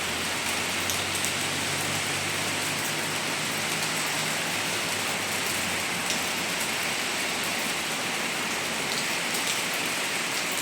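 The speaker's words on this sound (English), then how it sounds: "With an unusual amount of rain." Heavy rain pours down steadily in Benidorm during flooding, a dense, continuous hiss of water striking surfaces, loud and even with no voices throughout.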